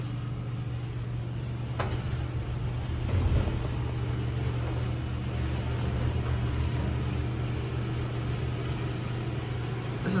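A loud, steady fan drones inside a hydraulic elevator cab at Fleming Hall, University of Houston, with a constant low hum and broadband whoosh throughout, with no pauses.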